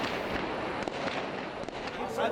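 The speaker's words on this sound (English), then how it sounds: "It's not clear who was firing." Gunfire rings out during a military clearing of a Cairo mosque in Egypt: a few sharp, scattered cracks at a distance over a noisy background with voices.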